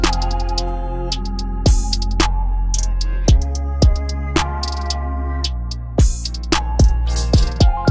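A programmed hip-hop drum beat built in FL Studio, with punchy kicks and sharp snare or clap hits over a tonal loop in a steady repeating pattern, loud and up front with no talking.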